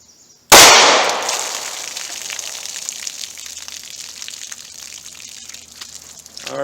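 Single sharp, loud gunshot of a Hornady Critical Defense .38 Special 110 grain +P round from a 2-inch snub nose revolver fired into a ballistic test pack, followed by several seconds of ringing, fading echo and rattle.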